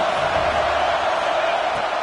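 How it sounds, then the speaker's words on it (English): Football stadium crowd roaring behind the defense on third down, a steady loud wash of cheering voices that holds at one level throughout. "Decibels rising as the crowd gets behind this defense on 3rd down."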